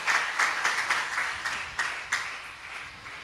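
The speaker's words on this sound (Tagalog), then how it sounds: "Pwede ba nating palakpakan nating dakilang Diyos, mga kapatid?" A church congregation applauding, fairly faint and distant, with a dense patter of clapping and a few sharper claps standing out.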